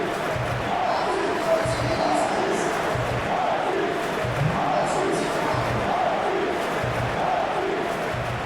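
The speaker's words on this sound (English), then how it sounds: "The crowd are calling for this to be put to bed." A large football stadium crowd at a World Cup match calls out in a dense, rhythmic roar, with chanting swells repeating about once a second over a constant loud wash of noise.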